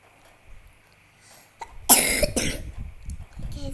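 A person coughs in a few harsh, loud bursts at close range, starting with a brief throat sound and followed by noisy breathy rasps.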